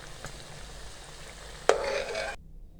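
Laddu peethi, dough balls for a crispy lattice-textured sweet, frying in hot oil with a soft, steady sizzle, then a sudden sharp burst of bubbling that lingers briefly before cutting to silence.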